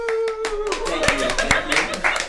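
A record-holding clapper claps rapidly in a live setting, sharp hand claps in a quick, uneven burst sounding close over a sustained musical tone, with voices in the background.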